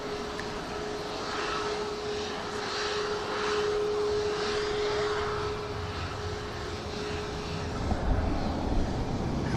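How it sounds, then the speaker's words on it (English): Fixed-wing airliner engines at an airport, a steady broad roar with a sustained tonal whine, heard from a distance with a little wind, no talk. "This aircraft's got about an hour's flight ahead of it down to the French capital."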